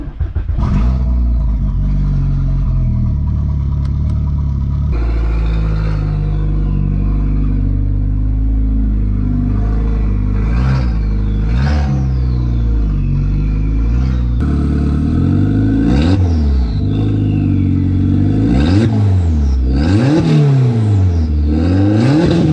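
A Toyota Supra MK3 engine is revved hard again and again, rising and falling in loud repeated sweeps that come closer together and climb higher toward the end, with no voices.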